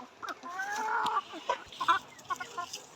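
Layer hens of about one and a half kilograms cluck repeatedly at a poultry farm, a close, busy run of short calls with a few sharper squawks and no voices over them.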